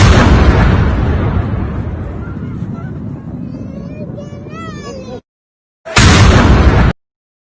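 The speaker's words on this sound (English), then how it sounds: "The moment when one of the 107 mm rockets impacted the apartment complex" A 107 mm rocket strikes an apartment complex near the U.S. Embassy in Baghdad, a loud, close explosion whose roar slowly decays, with faint voices rising after it, then a short silence and a second harsh burst.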